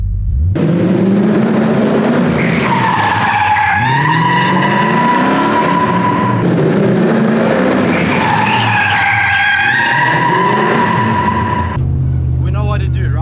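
A car drifting with handbrake technique, tires squealing loudly and continuously over a revving engine, two long skid passes in succession, close and dominant throughout.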